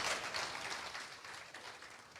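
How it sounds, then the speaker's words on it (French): Audience applause following a minister at a formal ceremony, a steady wash of clapping that holds evenly for a couple of seconds, moderately loud and without voices on top. "On peut l'applaudir, s'il vous plaît"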